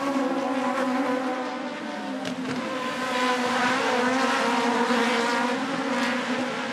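Aussie Racing Cars race at the Adelaide Clipsal 500, engines droning and buzzing steadily as a pack passes, fairly loud throughout with shifting pitch and no speech.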